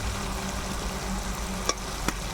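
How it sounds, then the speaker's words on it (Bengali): Kakrol (spiny gourd) fritters sizzle in hot spiced oil in a pan with turmeric and sugar, a steady broadband frying hiss running throughout with a couple of sharp pops near the end. "মশলা ভাজা হয়ে গেছে, এখন আমি কাঁকরোলের বড়াগুলো দিয়ে দিচ্ছি"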